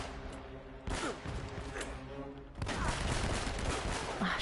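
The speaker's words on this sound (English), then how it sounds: "Who's shooting at me?" Gunfire in Uncharted: Drake's Fortune, a dense roar of overlapping shots and blasts that swells louder partway through, with no voices over it.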